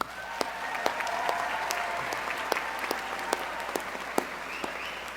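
Sustained audience applause at an evening graduation recognition ceremony, a dense steady patter of many hands clapping throughout with a few sharper individual claps standing out, with no talking.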